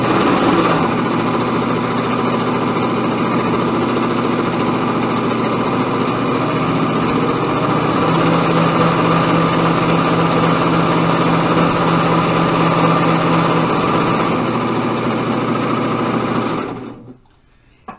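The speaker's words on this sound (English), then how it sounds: "Another thing I really like about this serger is very quiet." A serger runs steadily while finishing jacket sleeves, a loud, even mechanical whir and hum that continues without pause for about sixteen seconds before stopping abruptly.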